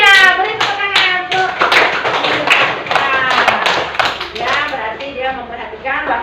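Schoolchildren in an Indonesian classroom clap their hands in a loud, close, rhythmic pattern of quick claps, mixed with children's voices speaking or chanting.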